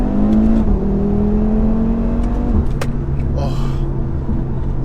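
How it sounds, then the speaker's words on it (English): Audi RS3 engine pulling hard under acceleration, a loud steady drone with rising harmonics and a brief gear change partway through, heard from inside the car with faint talk mixed in. "You just really want to wring the engine out. And the thing is, the engine is wanting to be wrung out."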